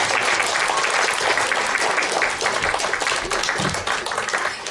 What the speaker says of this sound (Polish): Także duże brawa dla pani Alicji.